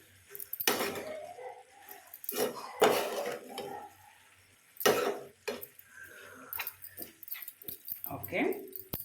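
A metal lid clanks onto a cooking pot of ridge gourd curry, a few sharp close clatters of pots and utensils separated by short pauses, with a voice speaking briefly around them.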